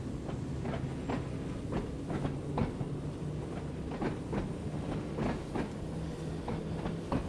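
A train in Train Sim World 3 accelerates during shunting, with a low motor hum and regular clicking of wheels over rail joints, growing steadily more frequent.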